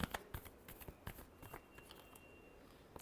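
Tarot cards being shuffled by hand in a quiet room, a run of quick, close, crisp riffles and flicks at an uneven rhythm, with no voices.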